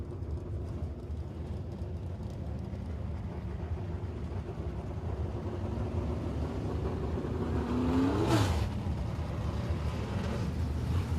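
Pro Mod race car running a hot lap on a dirt speedway, a distant engine drone that builds steadily and swells into a louder rising pass near the end.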